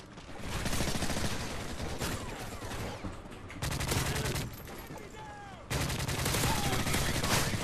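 Shotgun and other gunfire in Modern Warfare 3 on the Hardhat map, heard as dense, loud, rapid shots that run through the whole stretch with several abrupt surges.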